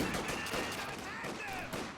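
Maxim machine guns fire in the Company of Heroes 2 video game, a steady rattle of repeated bursts layered with other battle noise and a speaking voice throughout.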